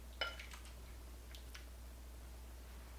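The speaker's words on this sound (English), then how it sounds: "I'm going to go ahead and dip us out a bowl." Bean soup ladled into a bowl: a sharp metallic clink of the ladle against the pot rim near the start, then a few faint scrapes and soft wet sounds over a low steady hum.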